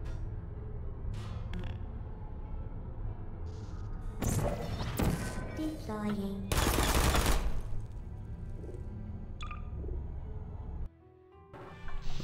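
Turret gunfire in Portal comes as several sharp, rapid bursts of shots at irregular intervals, loud and close, with quieter clanks and thuds between the bursts.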